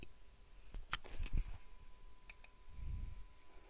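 Mouse clicks on the submit button of the PMFBY crop insurance portal, a few sharp, close clicks scattered over a quiet room background with no talk.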